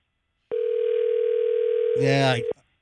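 A single long electronic ringback tone on a phone line, steady for about two seconds, with a brief voice-like burst near its end before it cuts off.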